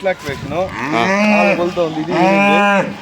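Loud, close moos from Ongole cows, one long drawn-out call followed by another, deep and resonant with no talking.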